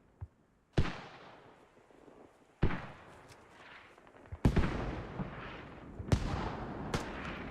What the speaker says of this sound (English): TacTrig's tubes have been counter-mortared.